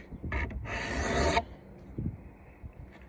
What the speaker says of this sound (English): So this is my improvement to sharpening the draw knives.